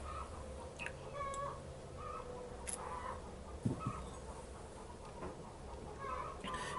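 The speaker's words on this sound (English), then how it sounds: "They got a choir of cackling going right through that wall." Hens cackle in repeated overlapping bursts from the other side of a wall, muffled and fairly faint above a low steady background hum, with one sharp knock partway through and no talk.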